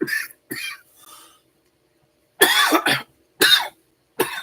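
A person coughs in repeated harsh bursts, a pair of faint coughs first and then several loud, close fits separated by short pauses, from someone whose cough has been worsening over weeks.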